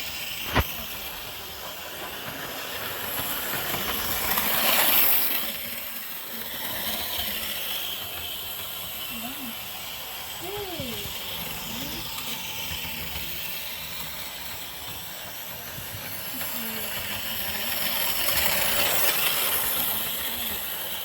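A model Class 35 Hymek locomotive runs along a ranch garden railroad, a steady hiss and rolling rumble that swells as it passes near, fades, then builds again toward the end, with a sharp click at the start.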